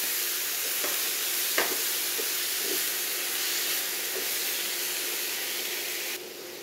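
Cauliflower stir-fried in a hot pan, with king oyster mushrooms in the dish, gives a steady loud hissing sizzle throughout, broken by a few soft stirring clicks and no voices.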